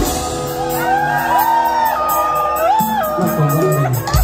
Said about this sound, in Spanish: A ver cómo gritan los caballeros